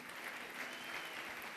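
A church congregation claps steadily together, a dense even wash of applause heard at moderate distance and holding without a break.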